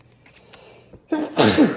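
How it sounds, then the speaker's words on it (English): A single loud sneeze bursts out near the end, after a second or so of quiet shuffling. "Just keep sneezing."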